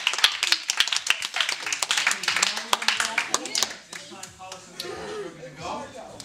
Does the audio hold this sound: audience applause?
yes